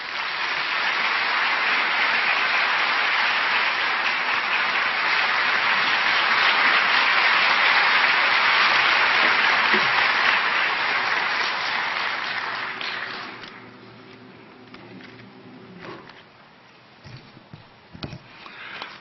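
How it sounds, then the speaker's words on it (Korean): Audience applause welcoming a speaker to the stage at a Korean Christian gathering, a broad sustained crowd clapping that holds steady for about thirteen seconds, then tapers off into a few scattered claps. "우리 박수로 환영하겠습니다"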